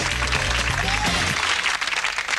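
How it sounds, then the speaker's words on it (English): A television studio audience claps, the applause overlapping a fading musical sting before continuing on its own, fairly loud and steady. "Give them a round of applause."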